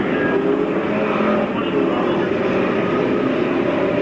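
Full-size race cars roar around the Riverside Park Speedway oval during a 50-lap Enduro, a continuous loud blend of engines with no breaks, while an announcer talks over it.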